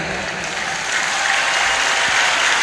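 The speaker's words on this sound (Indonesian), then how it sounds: "Tepuk tangan buat Mas Dani." Large religious gathering audience applauding, a dense continuous roar of many hands clapping that swells slightly and stays loud throughout.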